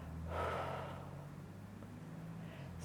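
One soft, close exhaled breath during a yoga neck stretch, a brief airy rush near the start that fades into quiet.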